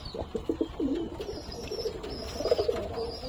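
Domestic pigeons kept at home coo in repeated low, burbling calls, near and moderately loud, several phrases overlapping against a noisy background.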